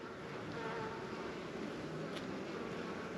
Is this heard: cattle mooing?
no